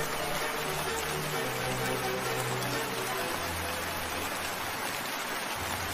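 Steady rain falls on a village home of bamboo beside a river, a soft, even hiss throughout with faint low tones underneath.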